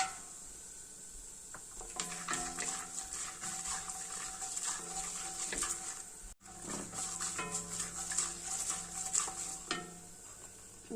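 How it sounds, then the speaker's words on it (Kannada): Peanuts are stirred in a frying pan for a mint chitranna rice dish, a steady close scrape and rattle of a spoon over a constant sizzle, with a brief break partway through. "ಕಡಲೆಕಾಯಿ ಬೀಜ ಹಾಕ್ತಾ ಇದ್ದೀನಿ"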